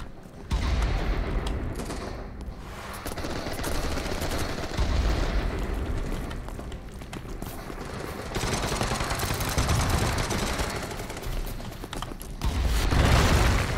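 Dense, continuous gunfire and mechanical clatter from BattleBit Remastered, with a heavier landmine blast burst near the end among the rapid shots.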